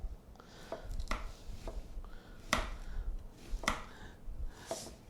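A knife slices through an onion on a cutting board in a home kitchen, giving a run of sharp, separate chopping taps at an uneven pace, close and moderately loud, with no talking.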